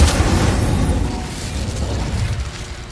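Loud, roaring burst of fire from an Incendio spell in Hogwarts Legacy, a dense rumbling whoosh that starts strong and slowly tapers off, with no one talking.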